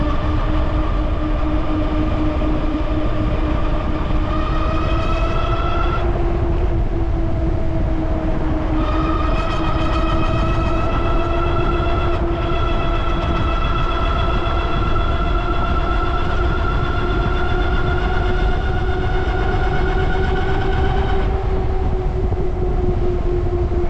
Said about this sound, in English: how loud the Grizzly is with these hub motors, especially with both of them going.